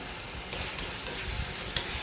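Prawns fry in a pan for a biryani, giving a steady crackling sizzle with faint scraping stirs and a few light clicks, close and without talk.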